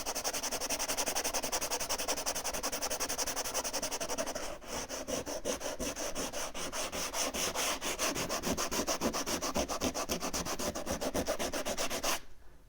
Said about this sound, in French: Ça va, je ponce pas trop fort?